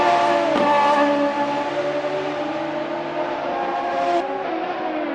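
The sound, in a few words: race car engine in a sim racing video game, Radical SR3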